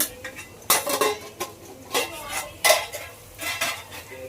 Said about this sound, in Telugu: కలుపుకోవాలి మంచిగా మిక్స్ అయిన తర్వాత